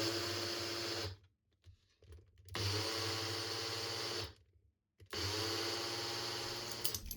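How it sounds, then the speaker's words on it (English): Blender whirring as it grinds granulated sugar into caster sugar, running in three loud, steady bursts with short silent pauses between them. "some regular granulated sugar for a few seconds in the blender, and then that's my caster sugar"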